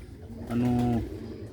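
A black-faced Sialkoti pigeon gives a single short, close coo of about half a second against a quiet background.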